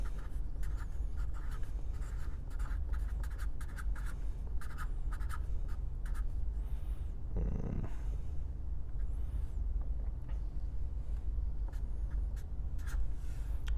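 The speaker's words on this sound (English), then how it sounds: "I can write espresso." Pen scratching out the word "espresso" by hand in continuous short strokes against a steady low background hum, with no talking.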